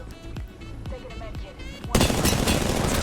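Gunfire in the Apex Legends battle royale game, a string of single loud shots followed by a sustained dense burst of rapid fire that fills the end, with no talk over it.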